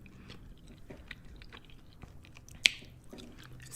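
Crunchy, cheesy baked mac and cheese with crisp corners being chewed close to the mic, soft steady mastication with one sharper crunch near the end, no talking.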